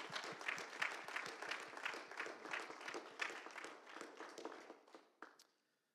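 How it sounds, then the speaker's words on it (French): Audience applause for a graduate at a theology faculty graduation ceremony, a roomful of hands clapping steadily at a moderate distance before tapering off to silence. "Alors, applaudissons-le."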